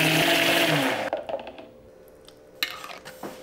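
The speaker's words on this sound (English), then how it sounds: "and blend until puree is smooth." Blender whirring as it purees fresh white peaches with a little sugar, loud for about a second before stopping abruptly, followed by quiet clinks and small kitchen handling noises.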